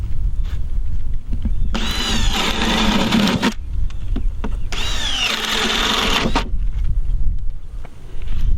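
A power drill with a 3/4 or 7/8 inch spade bit bores drain holes in the floor of a wooden barn owl nest box, two loud whirring bursts of about two seconds each, close up over low background noise.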